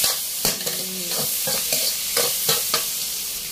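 Spicy field rat being stir-fried in a hot pan with soy sauce and oyster sauce, a steady sizzle broken by repeated scraping stirs of a spatula, close and fairly loud with no talking.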